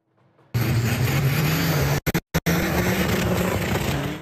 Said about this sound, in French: Sainte-Anne vibre aujourd'hui au son des moteurs lancés à pleine puissance